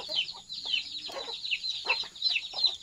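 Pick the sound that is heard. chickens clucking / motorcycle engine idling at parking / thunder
chickens clucking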